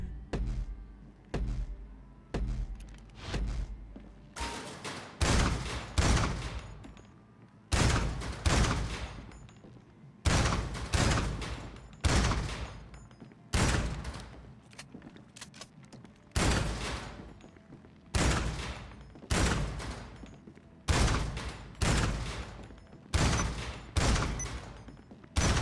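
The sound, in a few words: assault shotgun fire in a video game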